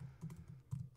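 Someone types a domain name on a computer keyboard, a brief burst of a few quick, soft key taps close to the mic with no voice over it.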